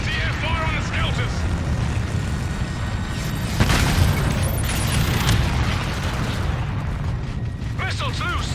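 Anti-air fire and explosions in Call of Duty: Infinite Warfare, a dense rumbling barrage of booms and mechanical clatter with a sharper blast midway, heard under radio-style voices.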